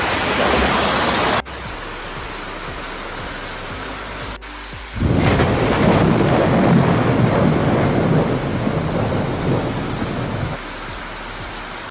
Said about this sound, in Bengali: তো চলো দেখা দেখাচ্ছি তোমাদের বৃষ্টি কেমন হচ্ছে আবার মানে আজকে সারা দিনটা এরকম বৃষ্টিই চলছে